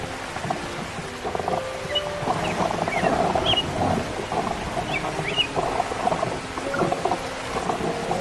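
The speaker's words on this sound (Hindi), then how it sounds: "ये तो बारिश तेज हो गई।" Dense, steady cartoon downpour with a broad rushing wash of noise, faint chirps and scattered tones above it, no talking.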